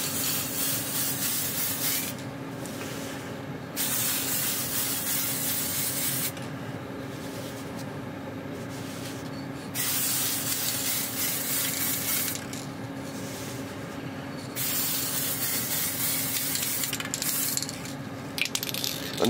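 Bursts of aerosol spray paint hiss in several separate passes, each a couple of seconds long, with steady background noise between them.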